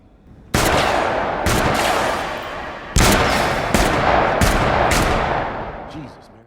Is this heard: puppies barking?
no